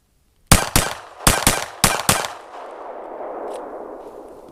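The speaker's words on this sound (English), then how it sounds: "I'm gonna load the second mag in. I'm gonna rapid fire this one." Six sharp gunshots fired in quick succession from a pistol magazine, loud and close, in two tight pairs and triplets, followed by a lingering outdoor echo and hiss as the shooting stops.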